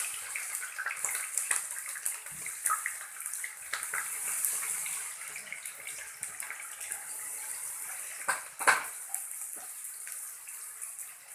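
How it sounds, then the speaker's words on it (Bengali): Half a cup of chopped onion hits hot oil in a home kitchen and sizzles with a steady, bright hiss and scattered crackles, close and fairly soft, with no talking. "তেল গরম হয়ে গেছে। এবার দিচ্ছি হাফ কাপ পেঁয়াজ কুচি।"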